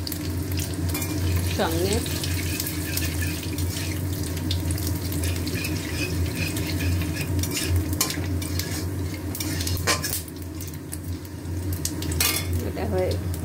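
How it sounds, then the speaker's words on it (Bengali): Whole spices and sugar temper in hot oil in a pan, with a continuous sizzle beneath metal spoon scrapes and clinks of stirring, plus brief water and utensil clatter; a voice briefly speaks. "এবারে ফোড়ন দিলাম, চিনিটাও দিয়ে দিলাম"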